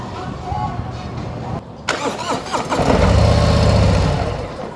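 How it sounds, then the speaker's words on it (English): A 2021 Harley-Davidson Road Glide CVO motorcycle engine cranks and catches, then settles into a loud, steady idle close by, with brief mechanical clatter before the start. "We just want to make sure that it works so that you can start the motorcycle without the key."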